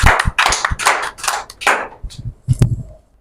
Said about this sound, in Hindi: जोरदार तालियों से आमंत्रित करें